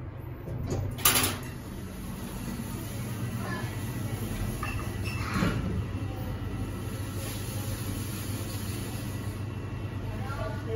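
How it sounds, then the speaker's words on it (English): Express lift doors at a community centre in Jardine's Lookout, Hong Kong, slide shut with a soft rolling rumble and a brief clink near the start, over steady machinery hum inside the car. "小心關門 Please mind the door."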